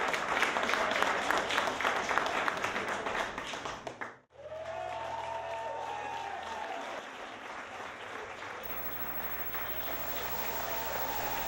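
A studio audience claps in sustained, dense applause, then there is a sudden cutoff and a quieter stretch with a low hum and faint tones.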